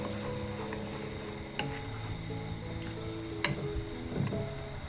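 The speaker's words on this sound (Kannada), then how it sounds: "1-2 ನಿಮಿಷ ಇದೇ ಥರ ಕೈ ಆಡಿಸ್ತಾ ಕುದಿಸ್ಕೊಳ್ಳೋಣ." Sugar syrup boils in a pan while being stirred by hand, a dense bubbling sizzle with occasional scraping clicks and soft knocks scattered through, close and fairly steady.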